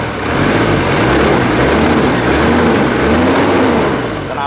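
The diesel engine of a Toyota Land Cruiser HJ45 hardtop long station wagon idles close by with a loud, steady, throbbing rumble throughout.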